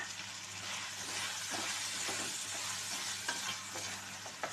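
Tomatoes sauté in a hot pan for a capsicum potato gravy, a steady close sizzle with soft stirring scrapes running throughout, no voices.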